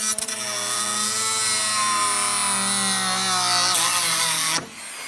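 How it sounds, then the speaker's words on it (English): A Dremel rotary tool with a cutting disc slices through screw ends on a wooden farmhouse coat rack, a steady high-pitched whine held loud and close for several seconds before it cuts out. "all I need to do is just come along here and turn on my Dremel and just cut it off"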